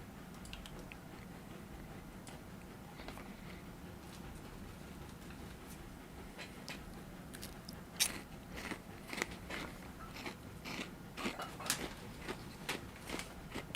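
Someone eats something crunchy close to the microphone, with irregular crisp bites and chewing crunches over a low background hum that grow more frequent and louder in the second half.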